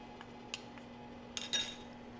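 A spoon scrapes and taps against a pot while emptying the last of a nutty, dark brown roux for wild mushroom soup, a few light metallic clinks followed by a brief louder scraping rattle, close and alone.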